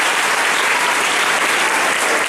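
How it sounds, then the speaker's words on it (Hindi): Audience applause at a school address, dense, steady clapping from a large crowd of students, loud and continuous throughout with no voices over it. "एक बार जोरदार ताली बजाओ ना अपनी बेटी के लिए"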